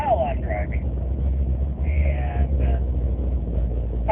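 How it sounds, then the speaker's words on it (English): Steady low car engine drone and road rumble inside a moving car, continuous throughout, with a voice talking over it. "This video is while I'm driving"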